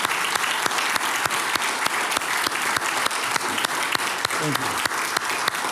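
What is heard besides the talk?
audience round of applause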